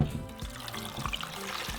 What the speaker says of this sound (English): now we're just going to cover it with water